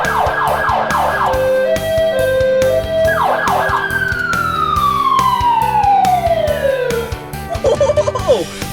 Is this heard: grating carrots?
no